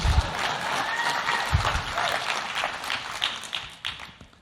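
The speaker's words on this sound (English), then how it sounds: "Yeah, you can applaud that." A room of listeners at an EdTech talk breaks into applause, a dense wash of clapping that swells briefly and then tapers off over a few seconds.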